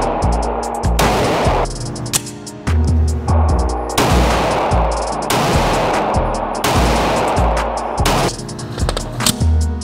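Glock 19 MOS pistol fired at a shooting range, a string of loud, sharp shots in steady succession, each crack ringing briefly before the next, close and dominant throughout.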